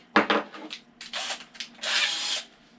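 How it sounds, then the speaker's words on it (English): A power drill whirs in several short bursts, ending with a longer grinding spin as a countersink bit cuts into wood, close and fairly loud. "pre-drill, swap out for the countersink"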